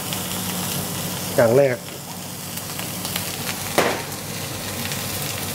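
Rice stir-frying in a wok for crab fried rice, a steady loud sizzle with brief scraping stirs and a voice speaking over the cooking.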